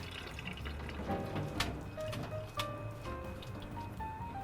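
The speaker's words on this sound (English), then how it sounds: "Once it's cooked, drain well in a colander." Boiled ramen noodles are drained in a colander, water pouring and splashing through the holes with scattered drips and clatters, quiet and close with no voices.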